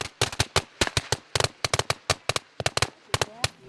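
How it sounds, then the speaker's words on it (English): Fireworks and firecrackers crackle in rapid, irregular bursts of sharp pops at a village celebration in China, a dense string of close, loud bangs with little pause between them. "So there were fireworks going off."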